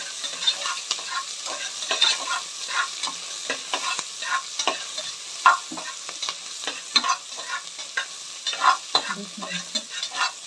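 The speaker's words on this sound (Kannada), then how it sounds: "ಇವಾಗ ಈರುಳ್ಳಿ ಹಾಕಿದ್ದೀನಿ. ಈರುಳ್ಳಿ ಎಲ್ಲ ಚೆನ್ನಾಗಿ ಫ್ರೈ ಆಗಬೇಕು" Onions frying in a pan, a soft continuous sizzle broken by frequent scraping stir strokes of a spoon against the pan, fairly close and without any talking.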